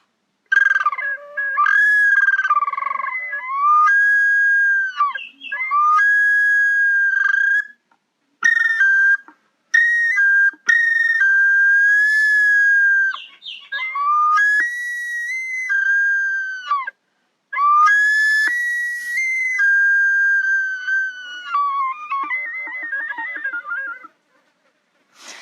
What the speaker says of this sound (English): it's what you would call an overtone flute, although it has a whistle mouthpiece